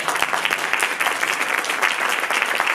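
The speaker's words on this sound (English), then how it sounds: "I'd like to give her a round of applause." Continuous applause from an audience at a live performance introduction, steady dense clapping throughout, fairly close and without speech.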